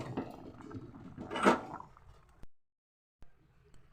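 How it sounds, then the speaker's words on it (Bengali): Close, quiet metallic clanks and a brief scrape as a pot of potato curry is lifted off a kitchen stove, a few separate knocks with near-silence between them. "এবার আমি তরকারিটাকে নামিয়ে নেব"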